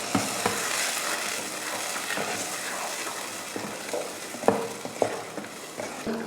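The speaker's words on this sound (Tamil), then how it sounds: "இப்போ இதை வதக்கிடலாம்." Onion and garlic sautéing in a pan for a tomato curry: a steady, soft sizzle and frying hiss with occasional scraping stirs and light clicks of a utensil against the pan, continuous and fairly quiet.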